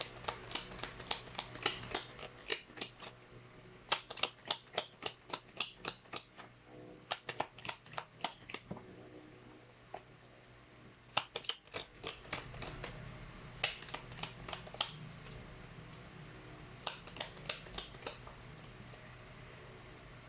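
Tarot cards shuffled by hand in quick riffling bursts, crisp and close, with short pauses between rounds and a low steady hum underneath.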